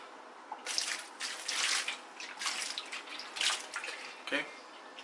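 Water splashing as vegetables are washed with vinegar in a kitchen before slicing for okra stew, a faint, intermittent sloshing and trickling close by in quiet surroundings.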